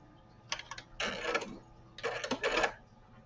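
A sewing machine top stitching a sewing project, running in three short bursts of mechanical whirring separated by brief pauses, fairly close and with no talking.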